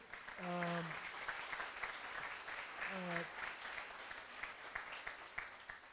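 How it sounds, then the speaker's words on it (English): Applause for student presenters at an entrepreneurship conference, steady clapping from the audience with a few sung or hummed tones breaking through near the start and midway. "Give a special round of applause to all the student presenters"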